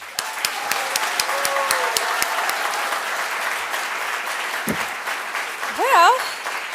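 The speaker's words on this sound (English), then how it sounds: "let's give a hand clap for all of our speakers today" An audience at a design school graduation ceremony applauds its speakers, a broad wash of clapping that thins out, with a voice speaking near the end.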